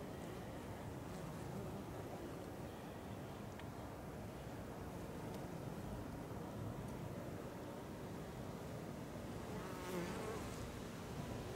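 Honeybees in an open nuc beehive buzz in a dense, continuous drone, close and steady throughout, with no talking.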